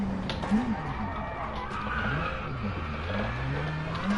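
Simulated rally car from the WRC 10 video game crossing from pavement onto gravel, a steady engine drone with rising and falling pitch sweeps and a hiss of tire noise, continuous and close.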